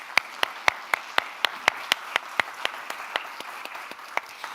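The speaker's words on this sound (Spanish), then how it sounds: "Aplauso para ella." Applause from a conference audience in Spain as a cybersecurity speaker is introduced, heard as a thin run of sharp, fairly regular claps that spread out and grow sparser toward the end, with no talking over them.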